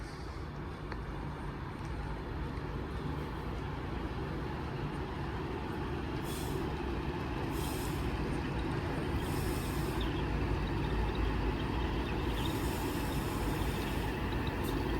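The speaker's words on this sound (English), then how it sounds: "Train now departing is a 390 going to London Euston" A Class 390 train pulls out of Wigan North Western bound for London Euston, giving a steady, loud rumble that holds for about fifteen seconds with no voices.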